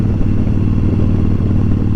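A motorcycle engine drones steadily while riding, a loud, close, continuous low rumble with harmonic throb and no pauses.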